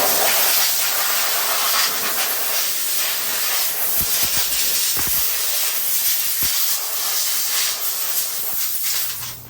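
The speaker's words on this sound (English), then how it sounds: "I'm just gonna spray it with a little bit of shop air just to blow off all the water" Compressed shop air blasts water off a Toro machine during a tune-up, a loud steady hiss that runs continuously close by with a few brief knocks partway through.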